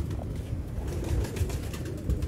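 Old-breed pigeons cooing in a loft, low soft coos repeating close by over a steady murmur of background noise.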